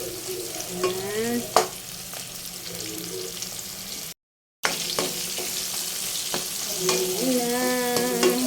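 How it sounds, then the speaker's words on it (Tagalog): Tomatoes with ginger and garlic sizzle and fry in a pan for chicken tinola, a steady close crackle with occasional stirring scrapes, while someone speaks briefly over the cooking. "Yung kamatis na ginisang mabuti, guys, ay masarap."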